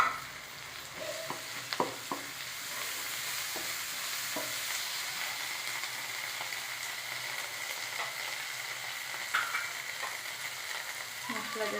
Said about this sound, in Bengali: বেশি ভাজা করবো না, দিয়ে দিলাম মশলা।